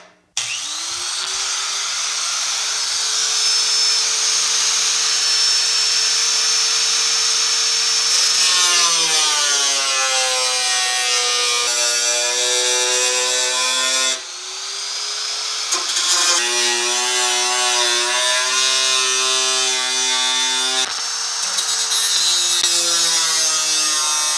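A power tool whines steadily through thin sheet steel while a patch panel is cut for the firewall of a 1965 Chevelle Malibu SS, a loud, close, continuous tone that shifts pitch in three long passes.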